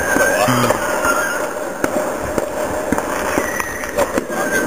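July 4th fireworks in Cougar, Washington burst in a run of sharp cracks and pops, some near and loud, others fainter, over crowd noise with people talking.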